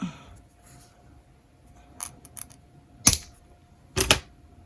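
A part is trimmed during a Utopia repair with a few sharp, crisp snips spaced about a second apart, close and clear over quiet background.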